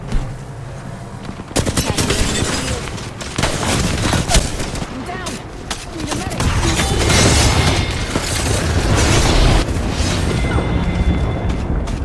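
Artillery strike explosions in a first-person shooter video game, a dense run of loud booms and gunfire-like blasts that continues throughout, under intermittent voices.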